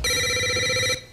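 A telephone rings once on a game show set, a bright electronic trill held for about a second before cutting off abruptly, clear and alone with no talk.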